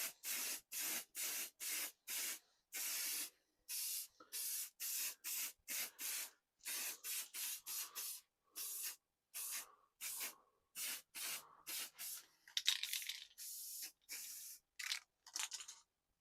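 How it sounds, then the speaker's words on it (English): A light clear coat is sprayed onto a vintage Mercedes wood-rimmed steering wheel in short, close hissing bursts, many quick spray pulses in a row with brief gaps between them. "So we'll shoot a light coat on and see how it affects the"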